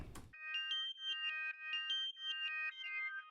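A bright synth chord sequence in an Afrobeats track repeats in rhythmic swells, each note ducking and rising again in a sidechain pumping pattern after a brief noisy hit.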